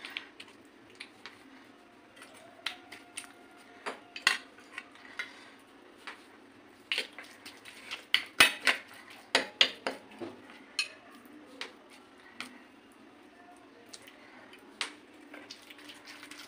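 Amla seeds clatter against a pot as boiled gooseberries are mashed with a ladle, giving irregular sharp clicks and knocks that come in quicker bursts in the middle, close and fairly quiet, with no talk.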